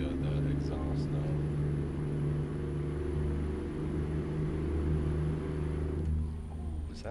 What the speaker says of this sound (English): That does sound really good, that exhaust though.